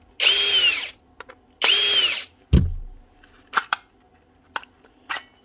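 A power driver unscrews Torx screws from a fake Dewalt battery pack in two loud whirring bursts, followed by a clunk and several small clicks and rattles of the screws and casing.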